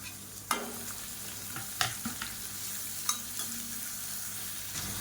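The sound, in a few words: sautéing grated carrot, beans and cabbage in a pan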